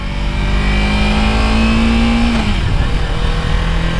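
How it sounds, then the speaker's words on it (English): Motorcycle engine revving loudly and close during a gear shift, with a steady high whine that drops sharply as the shift happens and then settles into a lower drone. "That was a good gear shift right there."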